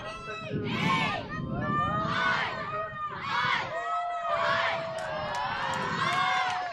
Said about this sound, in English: Got the Fire and Sparks teams giving it all in the cheer section.